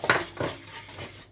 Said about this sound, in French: Je touille. Tom va touiller. Et tu touilles.